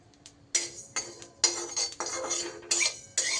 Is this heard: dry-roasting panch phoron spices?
yes